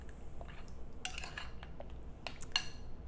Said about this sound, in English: We're going to stir this up.